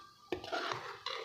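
A spoon stirs cooked moong dal in a pot, with a short run of close, soft scraping and sloshing strokes and a small clink at the start and end.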